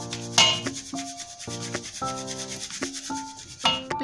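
Maida flour is sieved by hand, giving repeated gritty scraping and rubbing strokes in an irregular rhythm, close and moderately loud, with no talking.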